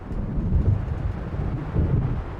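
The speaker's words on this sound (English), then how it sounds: "It seems there's a storm coming." Gusting wind from an approaching storm in Alan Wake, a loud, low, rumbling roar that swells and ebbs over a couple of seconds, with deep thunder-like rumble underneath and no voices.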